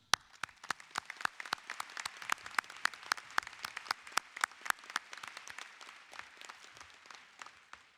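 Sparse, distinct hand claps from a small group at a high school graduation ceremony, a steady patter of individual claps heard fairly close with no talk over it.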